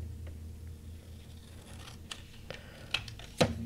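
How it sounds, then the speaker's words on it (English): Scissors snip through a paper seed packet during junk-journal crafting: quiet room noise at first, then a few sharp, close cuts growing louder toward the end. "I cut a lot of stuff today with my scissors"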